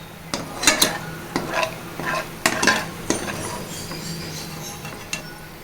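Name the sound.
bitter gourd pieces frying in oil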